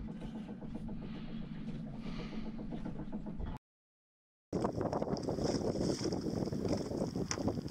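Wind on a blustery day outdoors buffets the microphone with a continuous rumbling roar and gusty rushes, broken by one short silent gap before the wind returns even stronger.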